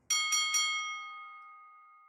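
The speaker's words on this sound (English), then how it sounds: "Then the bell rang." A boxing ring bell is struck three times in quick succession, loud and close, with a bright metallic ring that keeps sounding and slowly fades for about two seconds after the last strike.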